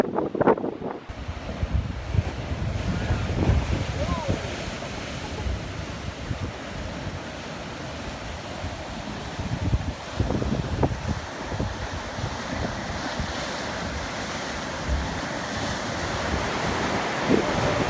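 Ocean waves surge and wash continuously at Thor's Well, a volcanic rock formation on the Oregon coast, with a loud steady roar of surf and heavy wind buffeting the microphone throughout.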